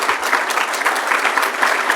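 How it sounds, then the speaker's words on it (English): An audience applauds a guest, a county State's Attorney, who stands during a legislative speaker's afternoon event: steady, dense clapping with no break across the whole stretch. "Let's give him a round of applause"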